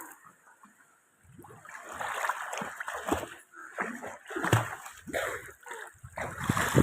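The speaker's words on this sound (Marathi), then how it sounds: "तर आता आपण एक उडी घालणार आहेत पाण्यात." Someone jumps into shallow water at a swimming pool, then a series of splashing and churning bursts follows close by, with faint voices in the background.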